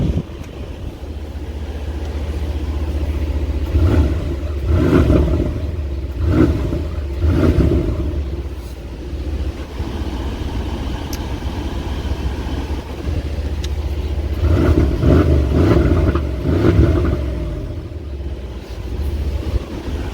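A 2019 Mercedes-AMG GLC63 4MATIC+ SUV with a V8 biturbo engine in Sport Plus mode, revved in repeated bursts over a steady idle rumble, loud and close, with pauses between the pulls.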